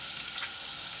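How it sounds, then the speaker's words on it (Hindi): Onions frying in hot oil for a potato curry give a steady, close, bright sizzle that holds evenly through the short moment with no voices. "तेल ऐड कर रही हूँ मैं। थोड़ा प्याज ऐड करूंगी।"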